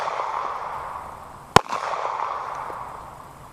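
One sharp .380 full metal jacket round fired from a Sig Sauer P238 pistol into a one-inch block of polyurea, a single loud crack midway with a brief echo over steady outdoor background hiss.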